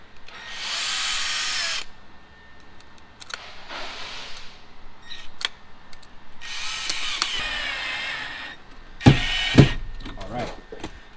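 A power drill drives screws into an Acura TL door for a Pioneer speaker install, with several separate whirring bursts of a second or two, a couple of sharp clunks near the end, and someone talking between them.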